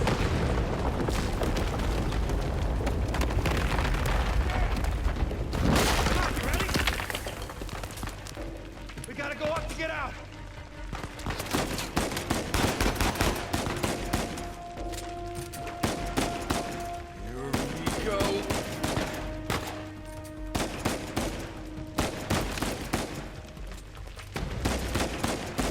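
Gunfire bursts and booming explosions from a firefight in the video game Uncharted 4: A Thief's End, with dense, loud combat noise that is heavy at the start and then continues in repeated bursts under a steady game soundtrack.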